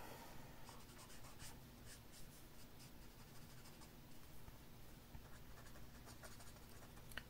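Sketchmarker Brush alcohol marker moving across paper in a steady run of soft scratchy strokes, drawing a winter street scene. The strokes sit close and quiet over a constant low hum, with no talking.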